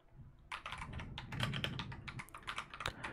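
Close, quiet typing on a computer keyboard for an ASMR session, a quick irregular run of crisp key taps over a soft low hum.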